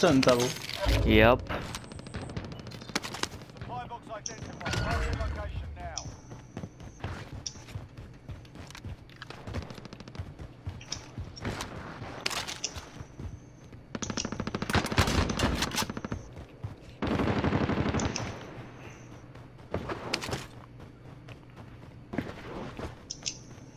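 A nail gun fires in a video game in rapid bursts of sharp mechanical shots, mixed with other gunfire and footsteps, while players talk and laugh over it.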